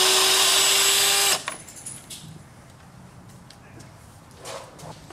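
Power drill driving out a headlight screw on a 2009-2014 Ford F150 whines loudly and steadily for just over a second, then cuts off, leaving quiet handling noise and faint clinks.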